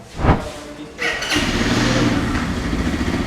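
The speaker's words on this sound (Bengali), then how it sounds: "এটা হচ্ছে বাইকটির exhaust pipe dual barrel exhaust সাউন্ডটা কেমন আপনাদেরকে শোনাচ্ছি" An FKM Street Fighter 165R motorcycle with a dual-barrel exhaust starts up close by, catching after a brief crank and settling into a loud, steady, throbbing idle.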